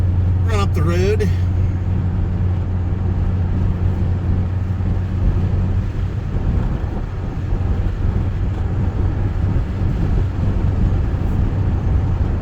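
A pickup truck drives up a road on a Saturday errand run, its engine and road rumble steady and close throughout, with a brief tonal whine near the start.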